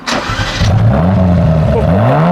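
A car engine revs hard, its pitch climbing and falling in repeated sweeps, loud and close, with no talking.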